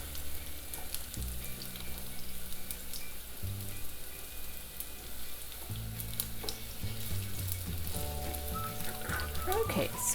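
Chopped ginger and onions sizzle and crackle in a pan for muttar paneer, a soft steady frying hiss with occasional stirring scrapes, fairly quiet throughout.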